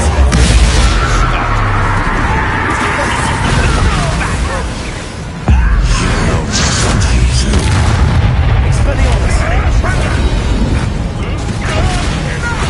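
Bombarda blasting spell in Hogwarts Legacy, heavy booming explosions and crashing debris with mechanical clatter, loud and sustained with a brief dip midway, under game dialogue.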